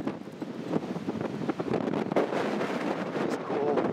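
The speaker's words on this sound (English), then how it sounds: "Sorry about the wind. Nothing I can do about the wind." Wind gusts buffeting an outdoor microphone in a continuous rough rumble, with a voice breaking through the roar in places.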